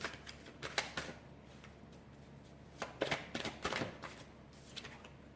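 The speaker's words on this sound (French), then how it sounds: "Alors je vais tirer toutes les cartes" Tarot cards are drawn and handled on a table in quick clusters of soft crisp flicks and shuffles, with short pauses between bursts, quiet and close.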